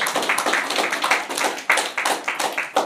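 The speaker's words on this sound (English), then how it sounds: "let's applaud Paul Robeson" An audience at Rutgers University applauds in tribute to Paul Robeson, with dense, lively clapping that rises and falls in quick waves for a few seconds, close and without speech.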